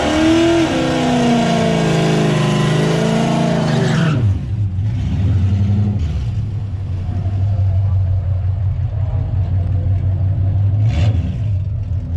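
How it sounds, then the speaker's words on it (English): A drag car roars hard at a drag strip's burnout box, its engine loud and sustained for about four seconds before dropping to a lower, steady drone that continues to the end. "he went around the burnout box. He's squealing."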